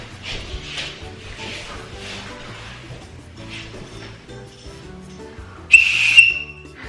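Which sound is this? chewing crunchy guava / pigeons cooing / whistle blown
whistle blown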